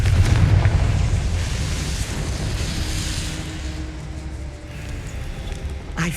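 Confringo blasting spell in Hogwarts Legacy, a loud explosive burst at the start trailing into a long low rumble that slowly fades, with no voices.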